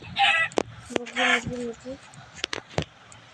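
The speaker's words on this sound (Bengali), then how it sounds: "এটা তো ওই তো একটা মুরগি" Minecraft chickens cluck and squawk in short bursts, with sharp clicks and taps between them, sounding like game audio.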